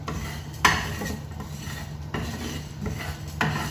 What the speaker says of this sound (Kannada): ಸ್ವಲ್ಪ ಪರಿಮಳ ಬರುವವರೆಗೆ ರೋಸ್ಟ್ ಮಾಡ್ಕೋಬೇಕು